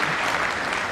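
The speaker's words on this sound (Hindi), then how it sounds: "बहुत जोरदार तालियां" Loud, dense applause from an audience at a religious gathering with a guru, a steady wash of clapping with no gaps and no talk over it.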